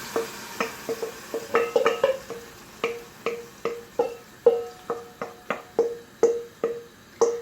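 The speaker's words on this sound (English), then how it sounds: "Let those sizzle. And carefully add the tomatoes." Cumin seeds sizzling and popping in hot oil for a tomato curry, with sharp crackling pops at an irregular, rapid rhythm, close and fairly loud, with no talk.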